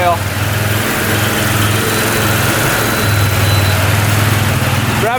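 UTV engine running at high revs, a steady and loud continuous drone with a strong low hum and constant mechanical buzz. The engine is burning off old oil that dripped on a hot exhaust pipe, and the sound sits close up.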